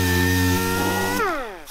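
A power tool runs at a steady high whine while smoothing welds on a battery tray, then spins down with a falling pitch near the end, loud and close.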